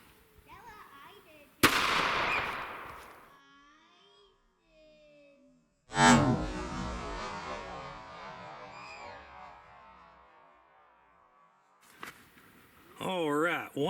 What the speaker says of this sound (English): First shot